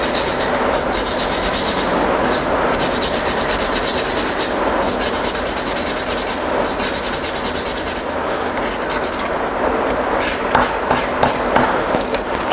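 A strip of magnesium ribbon is rubbed with sandpaper before burning in a chemistry practical, producing a steady close scratchy rasp in repeated bursts with short pauses between strokes.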